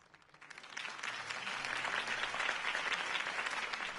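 Crowd applause in a video game after a speech swells after a brief quiet start and holds steady, a dense wash of many hands clapping at once, loud and sustained.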